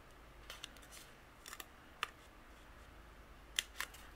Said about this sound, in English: I'm going to use my scissors and we'll just, there's just two little areas where you would just nip it open